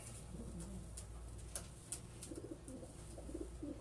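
Pigeons cooing in a racing pigeon loft, the parent birds of a 600 km race finisher, giving low repeated coos over a steady background hum with a few sharp knocks, no talk.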